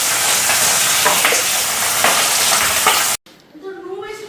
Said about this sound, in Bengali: এদিকে মাছের এক পিঠ ভাজা হয়ে গেছে